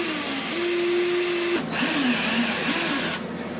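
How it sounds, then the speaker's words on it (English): A loud power drill runs steadily nearby, drilling holes for eye hooks above an aquarium, its motor pitch shifting as it bites in, with a brief dip mid-run; no talking. "we'll need to drill some new holes for those eye hooks"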